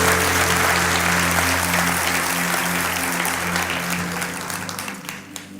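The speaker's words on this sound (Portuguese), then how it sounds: "Pode aplaudir" A church congregation applauding mid-sermon, loud sustained clapping from a large crowd over a low organ-like hum, thinning out and fading toward the end.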